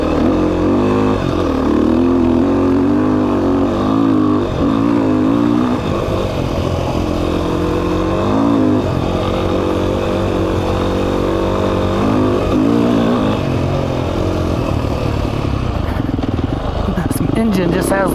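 A Beta 500 RR-S motorcycle engine runs steadily throughout, its tone rising and falling with throttle changes, loud and close, with someone talking over it.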